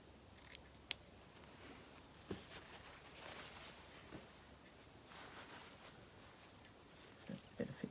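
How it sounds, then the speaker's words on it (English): Scissors cut a square of fabric in a few faint, close snips, spread out with quiet rustling between them. "That was terrible cutting."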